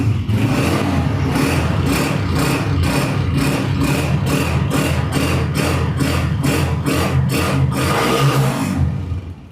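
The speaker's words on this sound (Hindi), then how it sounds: "कैलिबर की बाइक है, कड़क साउंड वाली बाइक है" A Bajaj Caliber motorcycle engine revs loud and close in a showroom, in a steady run of rapid throttle blips with a deep, hard-edged exhaust note, then settles near the end.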